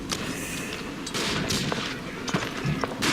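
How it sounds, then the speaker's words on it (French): Gunfire from the World War I shooter game Verdun, with several sharp rifle shots and distant bursts cracking over a constant battlefield rumble, no voices. "Donc là j'entends que ça tire donc je me cache un petit peu."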